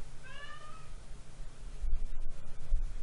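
A tomcat gives a single short, rising meow over a steady low background hum, followed by faint clicking noises.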